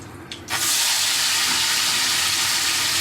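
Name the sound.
mango pieces sizzling in hot oil with mustard seeds and dried chilli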